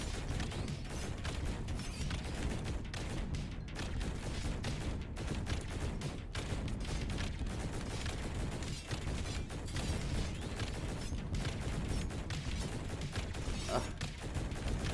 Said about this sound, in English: There's a lot of bullets just being flung my way.